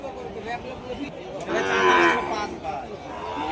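A cow lets out a single long, loud moo close by at a busy cattle market in Rajshahi city, with people bargaining and chatter underneath.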